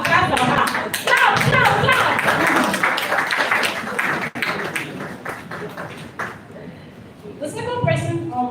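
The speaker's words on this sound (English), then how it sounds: "So clap for her." An audience at a motivational gathering claps for a top realtor, energetic rhythmic clapping mixed with loud voices and cheering that gradually thins out, with a speaking voice returning near the end.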